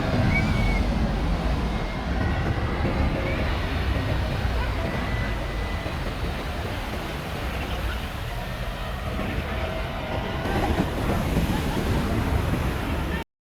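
Steady roar of beach surf and gusting wind buffeting the microphone, loud and continuous throughout with no breaks.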